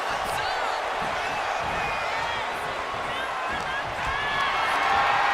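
Arena crowd in the WWE 2K25 wrestling game roaring for Brock Lesnar, a dense, continuous wash of cheering and whoops held at steady loudness throughout.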